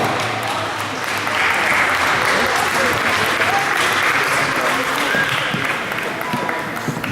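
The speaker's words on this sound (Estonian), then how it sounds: "aplaus palun!" Audience at a dance competition applauding, a loud, even wash of hand claps that carries steadily through the whole stretch without pause.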